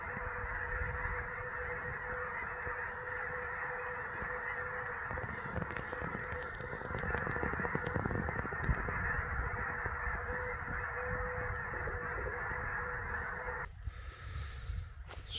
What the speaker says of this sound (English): There's another swirling vortex of geese.